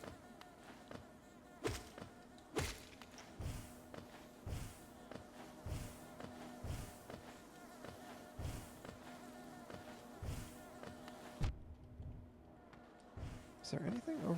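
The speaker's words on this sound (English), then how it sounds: "you're just hearing the buzzing of the bees." Bees in the video game Hollow Knight drone in a steady, faint buzz that hangs over soft repeated tapping footsteps, with a person talking over it.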